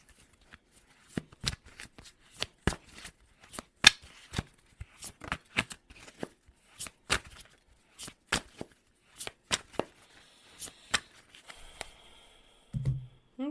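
A deck of tarot cards is shuffled up close in a quiet room, giving a series of crisp riffling snaps at an uneven rhythm, followed by a soft thump at the end.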